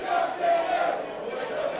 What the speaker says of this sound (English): we've got the bullpen behind us, singing away, enjoying themselves, flags, cowbells, drums and tambourines